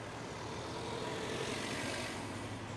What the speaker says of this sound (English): There's two trucks coming.